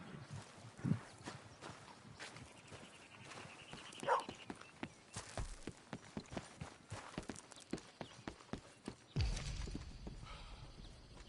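Horse hooves clip-clop at a walking pace in Red Dead Redemption 2, a string of close, crisp, irregular hoof strikes with a heavier thud near the end and faint game ambience beneath.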